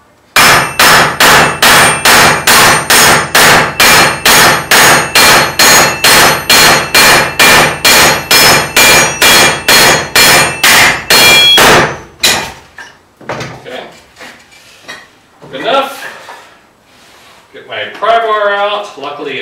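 Hammer peening a strong magnet assembly: about twenty-five rapid, evenly spaced metallic strikes, loud and close, then stopping, followed by someone talking.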